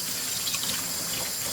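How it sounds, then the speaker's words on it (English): Kitchen tap running over shrimp being rinsed, a continuous close hiss and splatter of flowing water throughout the brief moment, no voices. "I'm turning the water off."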